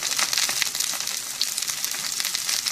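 Seafood pancake batter dropped into hot oil in a pan, with green onions laid on top, frying in a steady close crackling sizzle with soft pops throughout, no talking.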